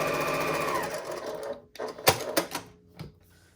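A sewing machine stitches a quarter inch seam, running close and steady for about a second and a half before slowing into a few separate mechanical clunks and knocks.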